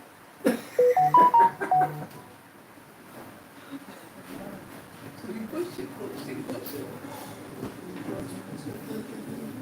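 A bright bell chime rings out with a few quick ringing tones, marking the start of a timed three-minute turn, then fades into a busy room murmur.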